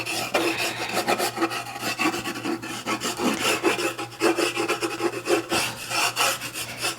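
Hard charcoal stick rubbed firmly across a painting surface prepared with cold wax and oil paint, giving a continuous rasping, scratchy scraping in quick repeated strokes, close and fairly loud, with no speech.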